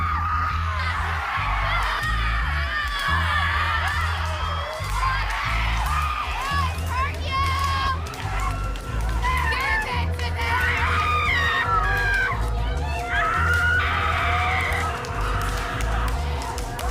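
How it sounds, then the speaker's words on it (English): Group of women in the woods screaming during a rage ritual, continuous overlapping shrieks and yells with rhythmic thuds of sticks striking the ground, loud and close throughout. "a bunch of women in the woods screaming and smacking sticks on the ground"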